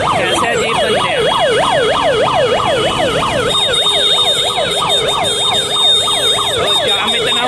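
An ambulance siren wails in a Delhi traffic jam, its rising and falling cycles loud and continuous, with road traffic rumbling beneath and no talk.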